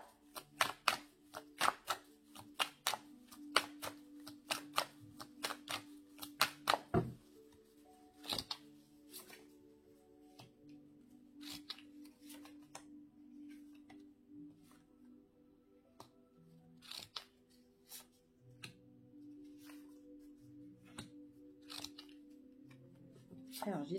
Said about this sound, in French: Alors, je dispose les cartes et puis je vous dis.